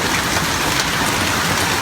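Heavy rain from a severe storm over Brisbane hisses loudly and evenly, a dense wash of drops on surfaces with no voices.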